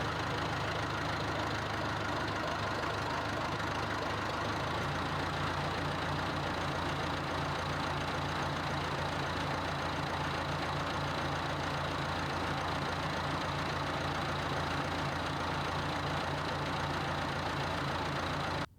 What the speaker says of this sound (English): I used my tractor to lift up the sagging portion